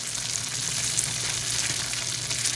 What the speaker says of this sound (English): And then we're going to give this a good stir.